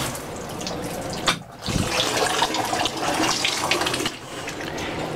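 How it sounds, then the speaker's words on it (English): A Moen shower head in a hotel bathroom runs with strong water pressure, a broad close hiss of spray that is briefly interrupted and then continues steadily, with no talking. "the water pressure in the shower head runs really great"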